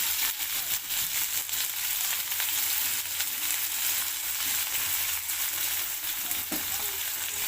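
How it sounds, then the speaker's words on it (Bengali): Onion fries in hot oil in a pan, a steady close sizzle with occasional stirring scrapes and crackles throughout, no voices. "পেঁয়াজটা একটু হালকা করে ভেজে নেব"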